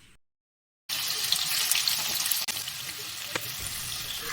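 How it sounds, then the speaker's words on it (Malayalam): Chicken pieces frying in butter in a pan give a steady, fairly loud crackling hiss after a brief silent start, with a few sharper pops and a slight drop partway through. "ഞാൻ ഈ ചിക്കൻ ബട്ടറിൽ ഫ്രൈ ചെയ്തെടുക്കുന്നുണ്ട്"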